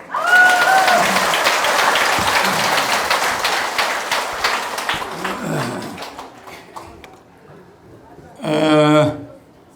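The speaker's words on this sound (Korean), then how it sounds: "박수!" Lecture audience breaks into loud applause that swells quickly, then thins out and fades over about seven seconds, followed by quiet and then a speaking voice near the end.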